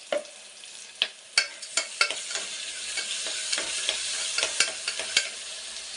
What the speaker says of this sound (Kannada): ಇದು ಒಂದು ಸ್ವಲ್ಪ ಫ್ರೈ ಆಗಲಿ.